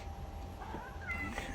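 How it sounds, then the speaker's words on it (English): Cats meow indoors in a room, a couple of drawn-out rising mews over a steady low hum, moderately close and unaccompanied by speech. "So sorry if you hear the cats making noise."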